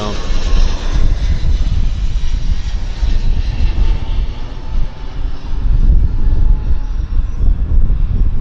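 An airplane passes low directly overhead at Vancouver airport, a loud sustained engine roar that swells and holds across the whole stretch, with someone talking faintly beneath it.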